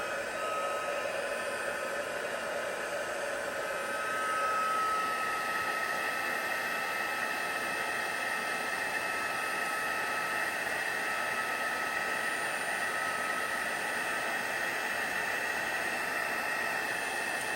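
A heat tool blows steadily to dry Distress Oxide ink on a handmade Christmas card, a continuous loud whooshing roar held unbroken throughout with no talking.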